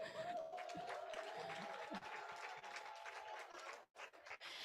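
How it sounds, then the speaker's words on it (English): Faint applause from a summit audience after a speaker is introduced, steady scattered clapping with a thin sustained tone running beneath, tapering off near the end. "Please a clap for Cecile"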